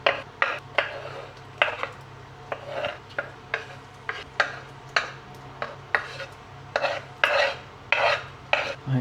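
Egg with sprinkled sausage and bacon cooking in a hot pan for a high-protein breakfast, heard as a soft background sizzle broken by repeated sharp scraping and tapping strokes of a utensil, close and with no one speaking.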